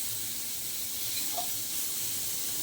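Food frying in a pan in a home kitchen, a steady faint sizzling hiss with a brief crackle midway, no talking.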